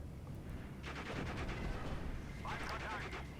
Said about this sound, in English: And the Americans now shelling my positions in the main road.